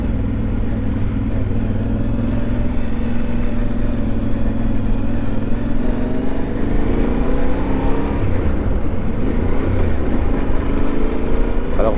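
A Yamaha Ténéré 700 World Raid motorcycle ridden on dirt tracks by a rider in enduro boots: a loud, steady engine drone that climbs and falls in pitch through gear changes, continuous and close.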